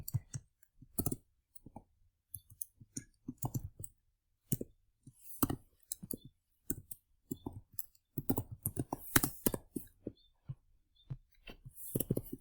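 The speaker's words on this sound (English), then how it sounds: "I'm typing way too fast." Rapid keyboard typing with dense bursts of clicks and clacks, fast and uneven in rhythm, close and fairly quiet, with no voices over it.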